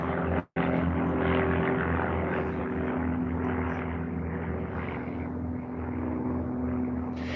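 A biplane in a heat race at Reno, flying the pylon course, gives a steady, loud propeller-engine drone. It holds a constant pitch throughout, with one brief cut near the start.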